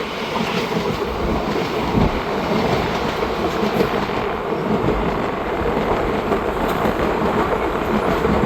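KSR Bengaluru Intercity superfast express train from Salem running on rails, a steady, loud rumble with clickety-clack of wheels over rail joints throughout, continuous and close.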